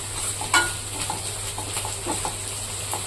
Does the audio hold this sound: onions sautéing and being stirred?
yes